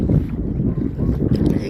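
Strong wind during a storm buffets and rumbles outdoors in a steady, heavy roar, with no clear voices.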